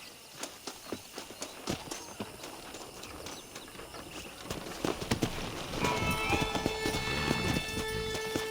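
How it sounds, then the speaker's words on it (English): Horse hooves clip-clop at a steady walking rhythm in the video game Red Dead Redemption, later joined by swelling music and a faint whinny in the background. "let's see if we can't wrangle some horses."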